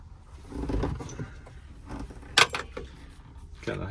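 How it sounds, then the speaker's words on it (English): Metal seat bolts from a 2014 Ram 1500 being tossed into a container, a short clattering jingle near the middle amid quiet workshop rustling, close by. "Let's throw the bolts back in there so we won't lose them."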